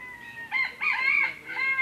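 A rooster crows in a drawn-out, multi-part call, then starts again, set against a steady outdoor hum in Paloma Park, Benalmádena, Spain.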